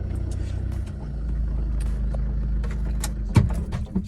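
A 2010 Maruti Dzire 1.3 DDiS diesel idles with a low steady rumble before the engine is switched off, leaving a clunk and a few faint mechanical clicks at close range.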